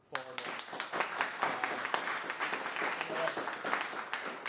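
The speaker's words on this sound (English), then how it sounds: "So big round of applause for" Audience applause at an in-person MLOps meetup in Bristol, a dense patter of many hands clapping steadily and fairly close, with a few brighter individual claps standing out and faint voices underneath.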